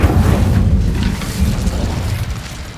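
Incendio fire spell cast in Hogwarts Legacy, a loud close whooshing boom with a burst of flame that rumbles low and gradually dies down over a few seconds.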